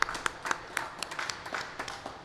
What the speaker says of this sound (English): Round of applause for Adrian, please.